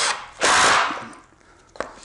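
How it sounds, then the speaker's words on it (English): A driver sets a 1-inch Torx screw into a wooden splice block on a faux beam build, giving one short, close whirring burst that tails off, followed by a brief click. "I make sure to drive the screws down good"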